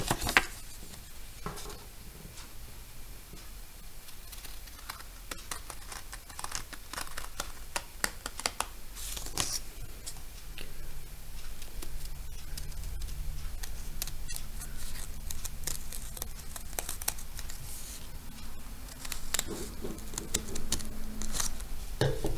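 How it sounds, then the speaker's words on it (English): Scissors snip through folded paper to cut out a heart shape for a handmade Valentine card, giving a series of close, crisp cuts and crinkles against a quiet background. "go ahead and cut on the line you made"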